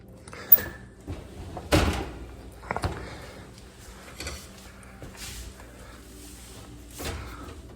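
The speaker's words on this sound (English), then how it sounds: "Very easy to remove the door." Faint clunks and knocks from a Kenmore oven door being removed at its hinges, a handful of separate metallic thumps spaced apart in a quiet room.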